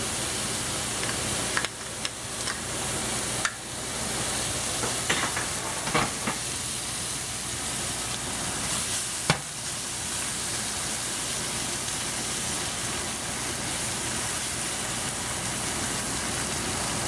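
Salted duck egg yolks frying in cooking oil, a constant near sizzle and hiss with a few stirring scrapes and clicks scattered through it.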